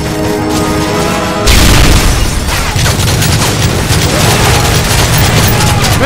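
In the video game Call of Duty: Modern Warfare 3, a grenade goes off with a sudden loud boom, followed by a rumbling crash and continuous gunfire and battle noise.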